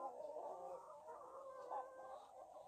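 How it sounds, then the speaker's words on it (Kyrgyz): Jersey Giant roosters and chickens cluck steadily in a farm flock, a dense, continuous murmur of poultry calls at moderate distance with no talking. "Мынакей, көрүңүздөр, корозору жерси экен."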